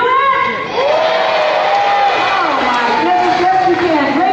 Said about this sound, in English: I need everybody in here to clap and cheer and whistle and make a lot of noise